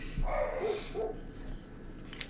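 A dog barks a few times at moderate distance, short muffled woofs clustered early, then quiet room tone, no speech.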